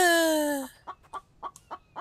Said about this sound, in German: Ja, noch ein Huhn